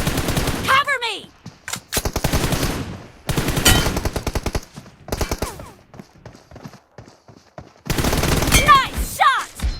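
Bursts of rapid automatic gunfire in a shooting video game crackle loudly in several separate volleys with short gaps between them, mixed with sharp shouts and game voices.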